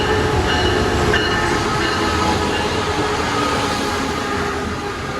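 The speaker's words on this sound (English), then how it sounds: "And here comes our train, about to take us south towards Miami." A Brightline train pulls into the West Palm Beach platform, its loud, continuous rumble and rolling wheels close by, easing slightly as it arrives.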